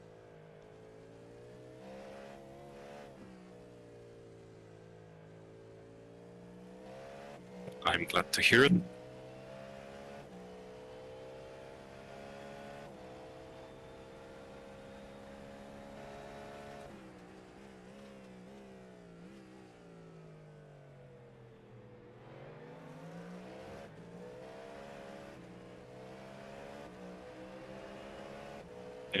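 Race car engine in the iRacing simulation at Sebring, a steady sustained drone that rises and falls with shifts and revs through the clip, with one sharp loud burst partway through and brief talk.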